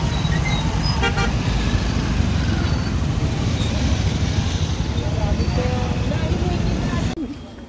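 Dense road traffic on a crowded route during a Hindu temple pilgrimage day, a steady roar of engines and motorbikes with short horn toots near the start, cutting off abruptly at the end.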